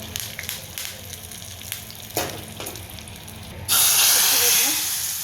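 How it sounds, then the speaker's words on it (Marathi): A tempering of asafoetida, cumin and green chilli bursts into a loud, bright sizzle partway through, hissing steadily after a few quiet clinks and scrapes in the kitchen. "आता हिंगाची फोडणी देते हे पहा हिंग जिरे आणि हिरवी मिरची"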